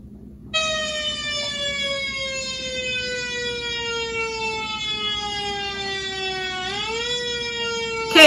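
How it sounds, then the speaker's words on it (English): An emergency siren from a fire truck or ambulance wails steadily and fairly loud, holding a long tone that dips once near the end, with no talking over it. "that sounds like a fire truck or an ambulance"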